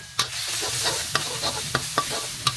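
Garlic, coriander root and pepper stir-fried in a little oil, giving a steady sizzle broken by several sharp scraping stirs of a spatula against the pan, close and fairly loud, with no talking.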